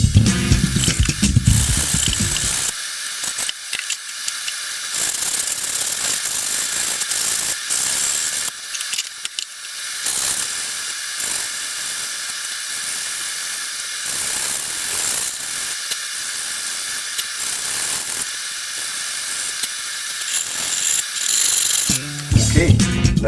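Hand sanding of a bass guitar body with 80 grit sandpaper: a dense, rasping scrape running for over twenty seconds in repeated strokes, broken by short pauses, close and fairly loud with no talk.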